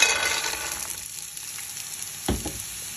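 Small shrimp drop into hot oil in a frying pan and burst into a bright sizzle that gradually settles to a quieter hiss, with a single clink of a utensil near the end.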